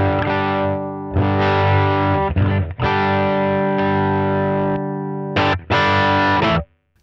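Electric guitar played through the drive channel of a NUX Trident pedal, loud sustained distorted chords ringing out in several bursts with brief gaps, played alone.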